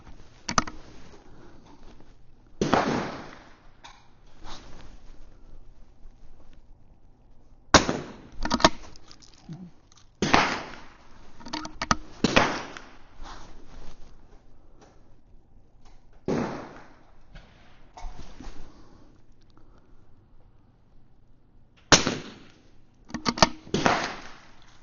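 Rimfire rifle shots crack at a shooting match, roughly a dozen sharp reports at irregular intervals, some in quick pairs, over a steady low background.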